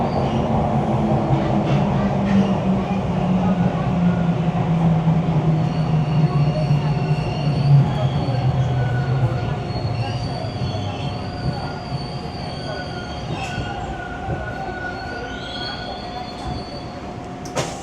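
A Toronto subway train on Line 2 pulls into Bay Station on a Sunday afternoon, its wheels squealing steadily and loudly with a low rumble underneath and a sustained tone overhead, easing off toward the end.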